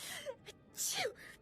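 A video game character sneezes, a short sharp gasping intake followed by a burst and a quieter trailing breath, close and fairly soft.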